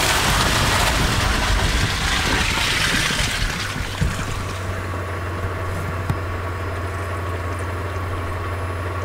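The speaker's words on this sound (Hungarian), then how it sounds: "Ilyen, amikor esik egy kis eső" Light rain falls in Mongolia's Gobi desert, heard from a car on a muddy track. There is a steady broadband patter and rush with a low hum beneath it, fairly loud and with no talk.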